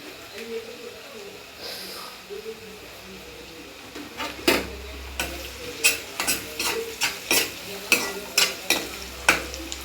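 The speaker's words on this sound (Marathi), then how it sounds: "चांगला गुलाबी होईपर्यंत कांदा परतून घ्यायचा आहे आपल्याला" Onions stirred and sautéed in a pan until pink, a steady low sizzle under voices, with sharp spoon or spatula scrapes and clatters repeating near and loud in the second half.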